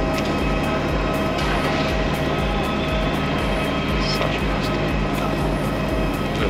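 Cabin noise inside an airliner cruising on the Penang to Langkawi flight: a loud, even engine drone and airflow rush, steady throughout with no clear voices.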